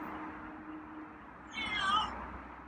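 A single feral cat meows once, fairly close, over a quiet low background hum.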